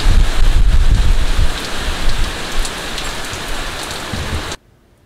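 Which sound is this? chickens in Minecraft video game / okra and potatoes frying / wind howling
wind howling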